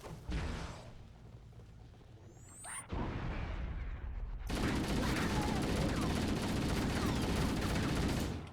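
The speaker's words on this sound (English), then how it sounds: "Yeah, they're just getting shot at and leaving." Gunfire in a Halo game as Covenant forces are shot at: loud rapid automatic bursts with whooshes and blasts, surging into a dense, continuous barrage in the second half.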